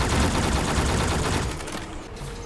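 Dense rapid gunfire from a Black Ops Zombies video game, a loud continuous barrage of overlapping shots that thins slightly toward the end, with no talking.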